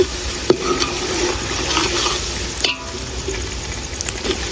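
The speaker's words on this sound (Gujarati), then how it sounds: "આ રીતે બધી જ ગ્રેવી મિક્સ કરી દઈશું અને તેલમાં ડુંગળીને સરવા દઈશું." Onion frying in oil in a pan for a village-style whole garlic curry, a steady loud sizzle with occasional scraping stirs of a spoon against the pan.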